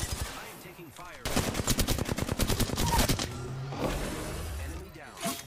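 Video game gunfire in Apex Legends fires in a rapid automatic burst with sharp impacts, mixed with game effects and a player's voice talking over it.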